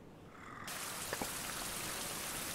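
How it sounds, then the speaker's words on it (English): Rain falls in a survival video game, arriving as an abrupt, steady wash of hissing noise that stays constant to the end. "Crap, it's raining again."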